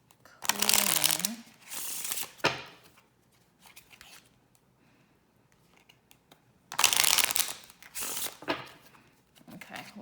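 A deck of playing cards is shuffled close up in two brisk, riffling bursts separated by a few seconds of near-quiet.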